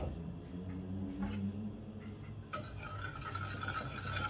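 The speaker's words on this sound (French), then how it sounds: "On remue pour dissoudre les cristaux de sucre." Sugar being stirred in a saucepan to dissolve its crystals, soft scraping and rubbing of a spoon against the pan, close and quiet, with a brief clink and a brighter hiss partway through.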